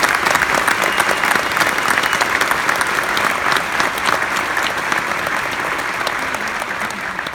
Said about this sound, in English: Let's give Benjamin a round of applause.